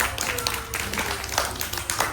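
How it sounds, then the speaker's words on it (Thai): Children clap their hands in a classroom, a quick run of close, scattered claps with a little voice mixed in. "ปรบมือให้พักนหน่อยค่ะ"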